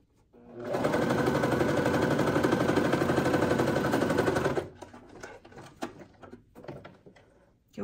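A sewing machine runs a fast, continuous burst of stitching along the seam of a satin fabric scrunchie for about four seconds, then stops, followed by light handling clicks and rustles of fabric.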